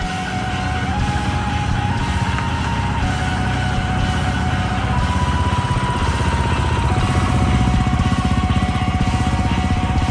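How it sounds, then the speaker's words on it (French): A rally motorcycle engine runs loud and close, holding a steady, rough drone with slight shifts in pitch for about ten seconds, with no voices over it. "La moto!"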